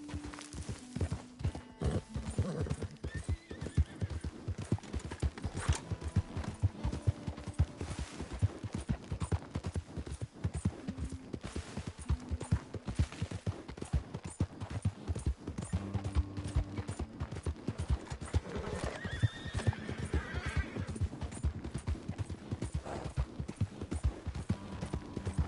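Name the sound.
horse galloping and neighing in video game Red Dead Redemption 2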